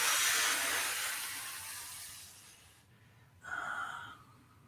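A person breathing out during a shiatsu leg and back stretch: a long, breathy exhale that fades over a few seconds, then a brief softer breath sound, close and alone.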